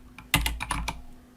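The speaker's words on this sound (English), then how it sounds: "I'll type the insulation command" A command is typed on a computer keyboard in AutoCAD: five or six quick, close keystrokes land in a short burst and then stop, with no talking.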